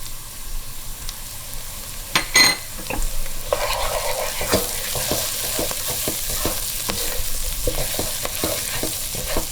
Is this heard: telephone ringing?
no